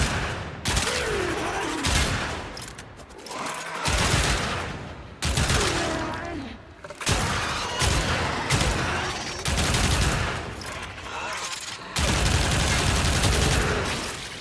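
Pyrana Prime shotgun firing in a video game, loud bursts of rapid heavy shots in repeated volleys separated by short pauses, with game effects and someone talking over it.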